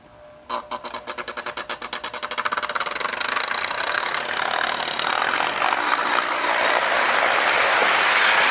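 A Lionel 1656 model train locomotive with a 6403B Bell tender runs nearby. Rhythmic mechanical chugging pulses quicken and blend into a loud, steady whirring hum, with no voices.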